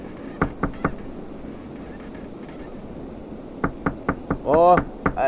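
Knocks on the door of an ice fishing house on snowy Mille Lacs Lake: a quick run of three sharp raps, a pause, then more knocking joined by a brief muffled voice, all close and fairly loud.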